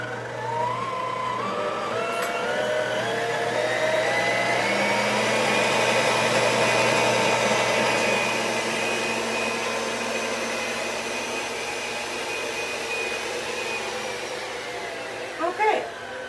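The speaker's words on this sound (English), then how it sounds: "So I'm going to turn up the mixer to high." An electric stand mixer whirs steadily on high speed, beating vegan oatmeal cookie dough with wet ingredients, a loud continuous motor hum with a rising pitch at start-up and a few clicks near the end, no talking over it.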